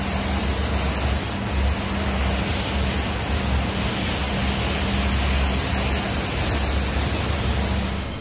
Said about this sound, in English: we went ahead and we sprayed a blue candy over everything